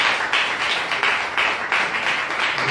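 A church congregation gives a sustained round of applause, dense steady clapping that swells in faint waves and fills the space with no talking over it.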